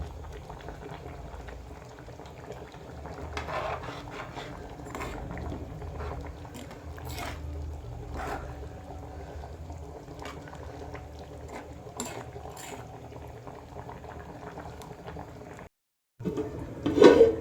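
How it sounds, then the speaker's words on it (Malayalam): A pot of fish curry bubbles and simmers steadily up close, soft popping and gurgling throughout, then a short silence and a sharper clatter at the end. "ഇപ്പോൾ ഇതേ കറി നല്ല പോലെ തിളച്ചിട്ടുണ്ട്"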